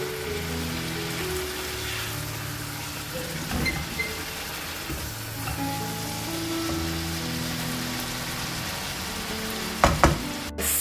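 Masala with dry fenugreek leaves frying in a pan makes a steady hiss like light rain, with occasional stirring scrapes and a louder clatter near the end.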